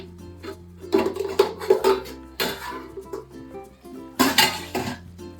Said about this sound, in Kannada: ಲಿಡ್ನ ಓಪನ್ ಮಾಡ್ತಾ ಇದ್ದೀನಿ